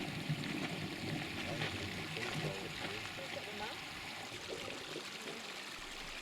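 Water from a nearby stream flows with a soft, constant trickling rush near the old lead mine ore-washing site, fairly faint with a calm voice talking over it.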